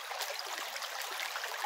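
Stream flowing past a rural farm, a continuous close splashing rush of water with steady bubbling and no pauses.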